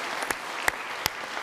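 Applause at a political party leadership debate, a soft, steady patter of many hands with a few sharper individual claps standing out.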